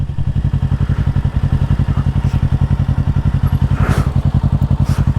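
A 2024 Kawasaki Ninja 650 motorcycle rolls along a sidewalk, its mid-pitched engine loud and close with a steady rapid pulsing thrum, light clattering and a couple of brief scrapes over it, no voices.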